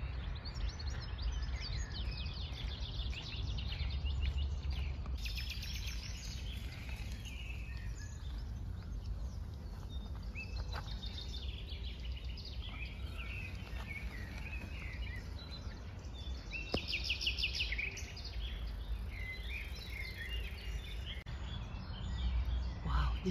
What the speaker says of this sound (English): And listen to the birds up there.